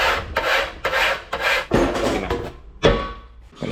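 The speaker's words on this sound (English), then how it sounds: "just cut it out, and I need to take off the burrs." A hand file rasps burrs off the cut edge of sheet steel for a truck mudwing, during restoration of an ERF EC lorry: a series of loud, close, scraping strokes with uneven gaps between them.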